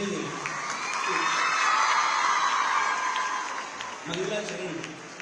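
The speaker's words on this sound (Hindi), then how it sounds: "देखिए तालियां इनकी बज रही हैं" An audience at an award ceremony in Gorakhpur applauds and cheers for MP Ravi Kishan, a steady wash of clapping and shouts that swells and then eases, with a voice over it.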